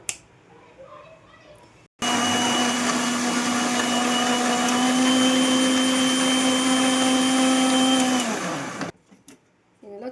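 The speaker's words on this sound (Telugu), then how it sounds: "ఇప్పుడు మూత పెట్టి మిక్సీకి వేసుకుందాం" Kitchen mixer grinder blending a banana, milk, sugar and chocolate milkshake: after brief faint talk, the motor starts abruptly with a loud steady whine that holds for about seven seconds, then cuts off, followed by quiet.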